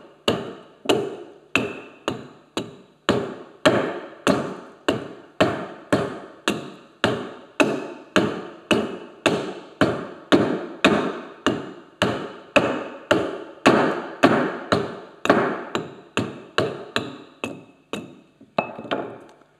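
Axe chopping excess coarse-grained wood off a joiner's mallet blank, around thirty sharp, evenly spaced knocks ringing close and loud with brief decays, heard alone without speech.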